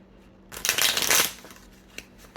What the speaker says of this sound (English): These cards just want to jump out before I even finish shuffling.